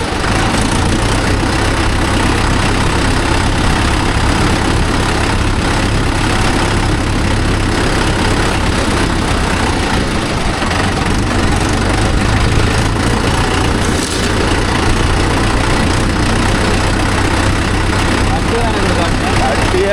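A Mahindra Yuvo Tech Plus 585 DI tractor pulling a nine-tine cultivator through a paddy field drones with a loud, steady, close diesel engine note, while people talk over it throughout.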